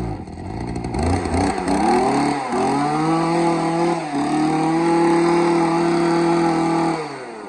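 A Japanese brush cutter's small engine revs loudly and continuously, its whining pitch climbing and dipping as the throttle is worked, with no talking.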